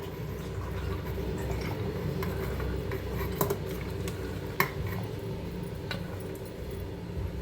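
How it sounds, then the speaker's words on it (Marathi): Soaked dal being scooped from a vessel into a mixer jar for masala vada, with close clinks and scrapes of a spoon against metal and a few sharp knocks over a low kitchen background. "मिक्सरच्या भांड्यात काढून घेऊया डाळ"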